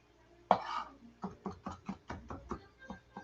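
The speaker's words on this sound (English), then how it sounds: "So we'll just chop that up a little more." Garlic chopped by hand with a knife on a cutting board, a quick series of about a dozen crisp, close taps in a steady rhythm after one louder opening hit, with no speech.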